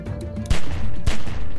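Gunfire in The Walking Dead: 400 Days video game: three loud, sharp shots about half a second apart, with no talking over them.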